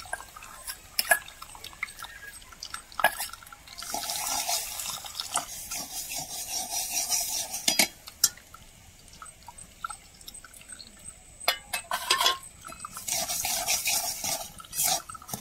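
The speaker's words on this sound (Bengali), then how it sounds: "এবার কিন্তু এইভাবে কাপড়ের মধ্যে জলটা সব বের করে নিতে হবে" Water squeezed from boiled papaya through a cloth, with soft intermittent dripping, trickling and wet rubbing sounds, fairly quiet and close, with occasional sharp clinks of a utensil.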